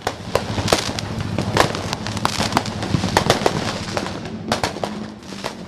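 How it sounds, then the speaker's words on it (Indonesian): New Year 2024 fireworks burst over the seaside road in front of the Papua governor's office in Jayapura, a dense run of sharp cracks and booms with crackling firecrackers layered over a steady low rumble. "Detik-detik perayaan malam tahun baru 2024 berlangsung meriah dengan pesta kembang api."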